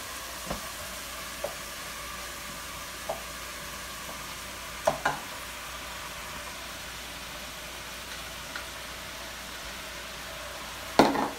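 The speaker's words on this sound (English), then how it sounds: "Now I'm going to add my mushrooms after I've added my peppers and onions." Mushrooms, peppers and onions sizzle steadily in a pan, a constant hiss with a few sharp utensil clicks and scrapes scattered through, close and even in level, no talking.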